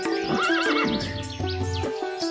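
A horse gives a loud, wavering whinny while hooves clip-clop in an uneven rhythm, both close and clear with no speech.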